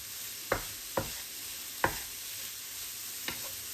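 Brussels sprouts cooking in butter with coriander and garlic, a quiet hiss broken by four sharp utensil knocks against the pan.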